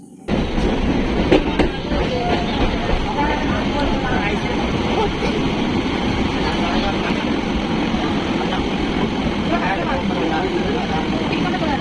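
A train rumbles steadily along the tracks, a loud continuous roar with faint rhythmic clatter throughout.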